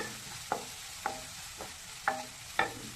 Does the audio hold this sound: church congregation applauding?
no